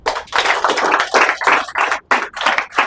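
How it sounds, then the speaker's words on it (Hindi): A live audience at a Hindi-language stage-fear workshop bursts into loud, dense clapping that surges and dips in short bursts, with brief pauses between waves. "तो एक बार पूरे शो के लिए हो जाए जोरदार तालियां।"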